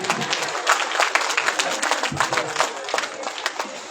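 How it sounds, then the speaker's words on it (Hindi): Audience clapping at a religious discourse event in Rajasthan, a dense, steady patter of many hands filling the space, with some voices mixed in underneath throughout. "बात अच्छी लगे तो तालियां जोर से बजाइएगा"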